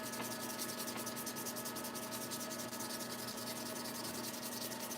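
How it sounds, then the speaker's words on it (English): Steady, continuous sanding of a tobacco pipe bowl to smooth out its finish, a close, even abrasive rubbing that keeps going without a break. "sanding it down to get it to smooth"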